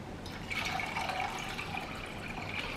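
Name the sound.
water poured into a pot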